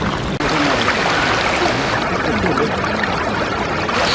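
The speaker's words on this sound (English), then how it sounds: "So there's all these little streams running down into the river there behind us." Small streams run down into a river on a winter countryside ramble, a steady close rushing and pouring of water that fills the clip with no talking.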